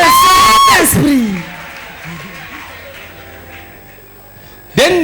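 A church congregation cheers and acclaims the Holy Spirit with loud shouts and whoops at the start, then quieter crowd murmur, and a fresh burst of shouting at the close.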